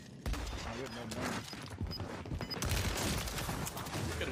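Gunfire in Call of Duty: Warzone crackles in bursts through a busy match, steady and mid-distance, mixed with game sounds while players talk over it.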